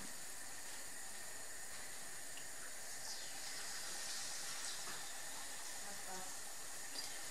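Battered fish sizzles in hot oil, a continuous fine crackling hiss that stays even and fairly faint throughout, without noticeable pauses.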